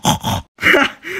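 A pig character in the Roblox video game grunts twice, loud and close, two short rough bursts split by a brief silence.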